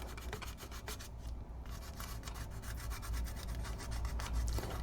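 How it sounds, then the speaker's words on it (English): Hardened epoxy modelling putty being sanded on a hobby model, a steady rasping rub of repeated strokes that continues close and fairly quiet with only brief pauses, no voices over it. "Since epoxies are so tough, it takes quite an effort to sand it down at all."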